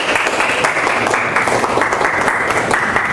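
Dense, loud applause from a classroom audience during a teaching session at STMM Yogyakarta, a steady wash of many hands clapping close by that holds evenly for the whole stretch.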